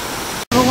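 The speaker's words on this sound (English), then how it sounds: "Hard to describe the beauty of this waterfall." Steady rushing roar of a waterfall on Maui in warm rain, close and continuous, briefly cut off before resuming with a voice speaking over it.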